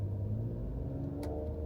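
A 2023 Ford Explorer picks up speed on cruise control, its engine hum rising steadily under low road rumble inside the cabin, with no talk.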